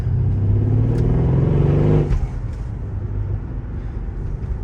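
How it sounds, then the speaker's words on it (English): A car's engine with an H-pipe exhaust rumbles low and rough under throttle for about two seconds. It then drops into a quieter, burbling idle with faint irregular pops. "I never noticed the burbles in the exhaust until I did the H-pipe"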